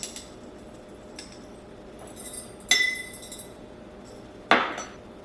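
Whole peppercorns drop into a glass jar for fermented pickles, giving two bright clinking rattles a couple of seconds apart against a quiet background.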